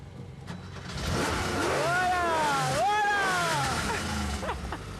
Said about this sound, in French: c'est une voiture qui fait un boucan de tous les diables